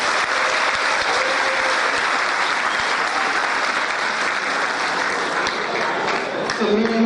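Students applauding sponsors at a school graduation ceremony, a loud, dense, continuous burst of clapping from a large crowd indoors, holding steady throughout with a voice briefly audible near the end.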